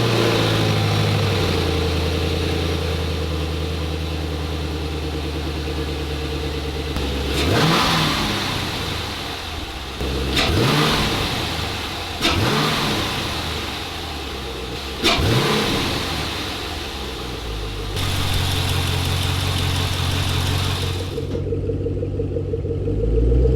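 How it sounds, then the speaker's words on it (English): A Camaro SS fitted with a cold air intake sits at a deep, loud, steady idle, then gets several quick throttle blips that rise and fall sharply, ending in a longer held rev before dropping away. "The install is complete. Let's start it up and see how it sounds."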